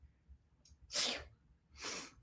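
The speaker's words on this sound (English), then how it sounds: "I have to sneeze." Two quick sneezes close to the microphone, a sharp burst followed by a second one less than a second later, in a quiet room.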